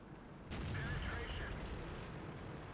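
Artillery fire in World of Tanks slams into a tank as one sudden loud broadband boom, followed by a sustained rumbling roar that stays heavy and noisy for a couple of seconds.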